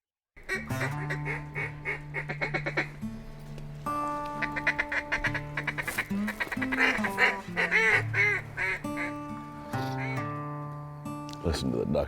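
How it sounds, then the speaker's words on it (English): Mallard ducks quack repeatedly from the brush during a morning duck hunt in Arkansas, a loud, busy chorus of calls running throughout with people talking over it. "Listen to the ducks back in that brush."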